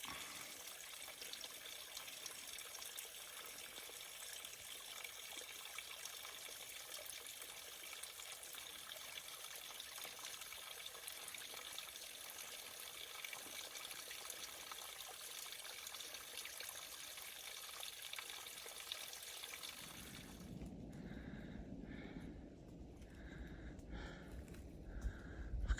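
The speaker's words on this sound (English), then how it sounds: "Looks like the perfect place to fill up my water bottle" A small stream trickling on the Appalachian Trail near Cheoah Bald, a faint steady wash of running water that changes character near the end as a water bottle is filled.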